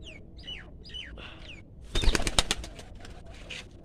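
Pigeons call and coo in short repeated phrases, then a burst of loud wing flapping as birds take off nearby.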